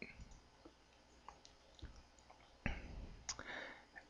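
A few sharp, faint computer mouse clicks land irregularly in a quiet room, with the clearest two close together near the end, while setting up a WordPress database.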